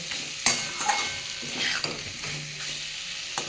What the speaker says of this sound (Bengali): আমি একটু পটলটা দিয়ে দেবো দিয়ে একটু নাড়িয়ে